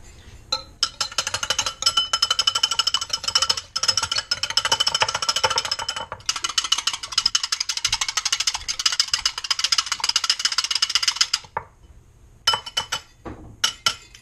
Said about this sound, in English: we have our egg whisked together